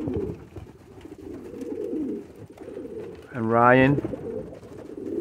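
Pigeons coo close by inside a loft, with a low steady murmur of birds throughout and one louder rising coo near the end. A person speaks briefly.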